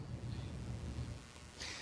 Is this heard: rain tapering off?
yes